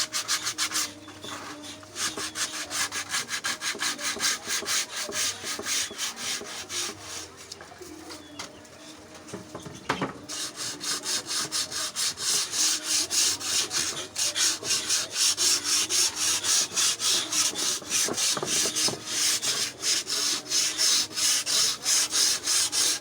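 Rapid rhythmic rubbing of 100-grit sandpaper on a wooden lechon tray scratches away steadily at close range, pausing briefly, with a faint voice and distant birds cooing.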